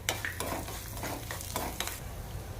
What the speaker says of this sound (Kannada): ಎಣ್ಣೆ ಕಾದಿದೆ, ಉದ್ದಿನಬೇಳೆ ಹಾಕ್ತಾಯಿದ್ದೀನಿ